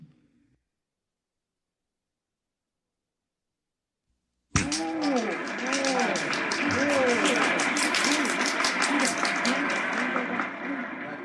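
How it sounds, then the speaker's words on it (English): A parade crowd along Fifth Avenue breaks into cheering and laughter after a silent stretch, a dense continuous roar of many voices that stays loud to the end. "this is a happy, laughing crowd along Fifth Avenue today"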